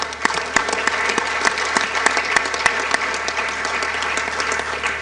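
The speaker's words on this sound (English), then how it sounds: "strong applause" Audience applause at an Olympic committee forum in Skopje rings out as a moderate, sustained patter of many hands, with individual sharp claps standing out against a steady bed of clapping.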